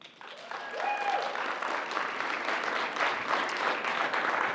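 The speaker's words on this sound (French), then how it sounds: "On peut s'en applaudir" Audience applause at a college's local talent show final, a steady, moderately distant wash of many hands clapping, with a brief whistle near the start.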